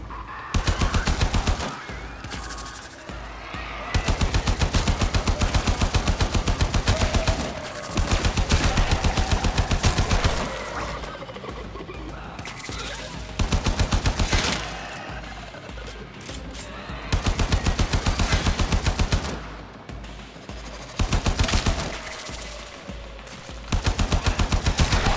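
Rapid automatic gunfire from a weapon in the video game Warframe, shooting at a container, comes in loud sustained bursts of several seconds each, separated by brief pauses, with a steady fast rattle throughout and no talking.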